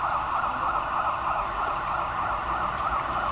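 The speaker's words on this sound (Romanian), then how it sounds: "Patru autospeciale de la pompieri au intrat valvârtești pe poarta fabricii de lângă Pitești." Fire engine sirens wail steadily and loudly as the trucks arrive at a burning rubber factory near Pitești, Romania, with a continuous rising-and-falling tone throughout and no voices.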